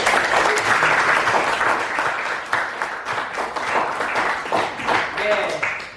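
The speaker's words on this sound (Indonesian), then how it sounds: "Sekali lagi tepuk tangan buat Kia." Students in a classroom clap steadily in a round of applause lasting several seconds, with voices mixed into the clapping.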